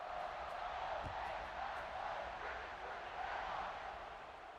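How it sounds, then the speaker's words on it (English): A stadium crowd after a score in a football video game keeps up a steady, faint, distant buzz of broad murmuring and cheering that swells slightly and then eases. "this crowd is buzzing after that last score"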